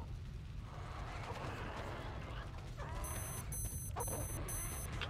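Repeated electronic beeping from the video game Metro Exodus, a short series of high pulses late in the clip over a low, rumbling game ambience, with faint voice-like sounds.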